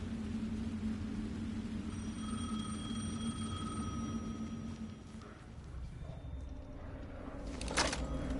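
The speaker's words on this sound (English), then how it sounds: "The phone again." A telephone rings in the Alan Wake 2 video game, a faint, sustained electronic ring over a low rumbling ambient background, fading out near the end with no talking.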